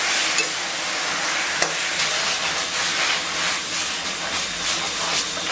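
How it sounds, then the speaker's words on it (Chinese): Bok choy stir-frying in a hot wok, a steady loud hiss and sizzle of oil and steam with faint scraping of stirring, close and continuous without speech. "然后咱们把小油菜下到锅中， 同样给它炒至断生"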